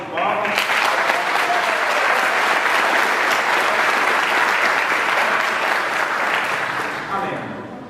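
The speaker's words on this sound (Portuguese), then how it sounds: "Vamos dar uma salva de palmas." Sustained applause from a seminar audience at a church event, a dense, loud wash of clapping that starts abruptly, holds steady for several seconds, then tapers off as a voice comes in.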